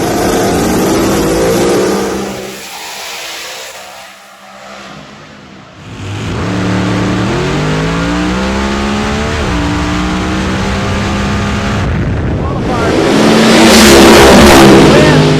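Loud drag racing cars roar and rev hard at Eddyville Raceway Park, rising in pitch as they accelerate away, with a brief dip before the engines surge again.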